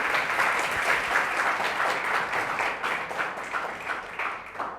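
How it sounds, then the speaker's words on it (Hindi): Church congregation applauding in thanks to Jesus, a sustained, dense wash of many hands clapping together, steady and fairly loud throughout with no speech. "आइए जोरदार ताली से उस खुदावंद यीशु मसीह को धन्यवाद करते हैं"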